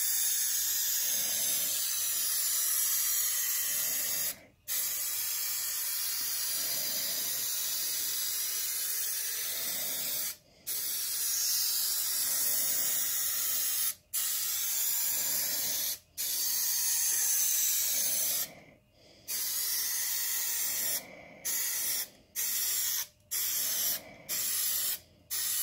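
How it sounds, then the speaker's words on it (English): Instant bond adhesive sprays from a shaken aerosol can onto a Mustang S197 door panel insert, a steady loud hiss running in long bursts broken by several brief pauses, with no talking. "So we're going to go with that instant bond thing. I've been shaking it for a while, so we're going to spray it"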